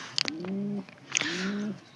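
A pigeon coos twice close by, each a low, throaty rolling call, with a brief pause between them and quiet surroundings.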